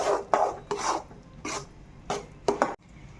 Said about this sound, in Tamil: இப்போ நம்ம இந்த பாகுல எல்லாத்தையும் ஒன்றா நல்லா கரைச்சி எடுத்துக்கலாம். கிளறி எடுத்துக்கலாம் ஒன்றா.